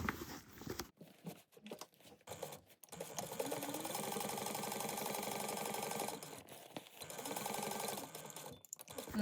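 A domestic sewing machine stitches a bag's folded opening closed, starting and stopping in short bursts before settling into a long, steady whirring run, then a few more brief stops near the end.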